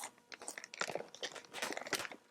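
Crisp, close crunching of a toasted sesame almond snack being bitten and chewed, with rapid, irregular crackles over a couple of seconds.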